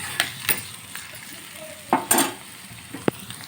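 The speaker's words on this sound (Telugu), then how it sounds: "కొద్దిగా జీలకర్ర ఆవాలు, ఆనియన్స్, చూడండి ఆనియన్స్ అయితే ఫ్రై చేసుకోవాలి." Onions frying with cumin and mustard seeds in a pan, a soft steady sizzle broken by several sharp spoon scrapes and clinks against the metal, close and without talk.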